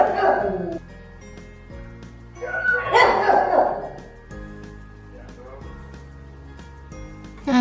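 A timid dog barks a few times indoors, the sound moderately loud and mixed with people talking and household background noise.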